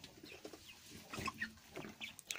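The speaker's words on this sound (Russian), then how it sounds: "Отсаживаю петушков, заодно их посчитаю." Chickens, young roosters and hens, clucking in short, scattered bursts at moderate distance, with a few sharper squawks mixed in among the birds.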